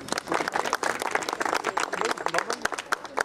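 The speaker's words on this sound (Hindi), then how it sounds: "तालियां बजाएं।" Applause from an audience at a Baba Saheb 125th birth anniversary celebration in Shimla, a dense crackle of clapping hands with crowd voices mixed in.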